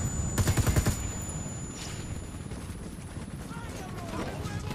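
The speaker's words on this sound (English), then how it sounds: "I'm shooting these fuckers" Automatic gunfire in Ghost Recon Wildlands: a loud, rapid burst of shots early on, then scattered shots and battle noise continuing under a voice.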